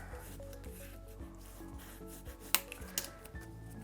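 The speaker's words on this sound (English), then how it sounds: "I'm gonna burnish that down really good." Rubbing strokes of burnishing paper pressed down onto a handmade 4x6 mini album, a steady close scraping rhythm with a few sharper taps near the end.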